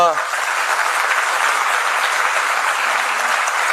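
An audience at a state-level teachers' workshop claps together in sustained, dense applause that rises quickly and holds steady throughout, filling the hall.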